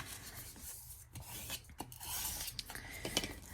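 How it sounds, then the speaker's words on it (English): A small craft scraper rubs back and forth over paper for a pop-up mini album page, with faint, close, papery scratching strokes in an uneven rhythm. "Just going to give that a good scrape back and forth."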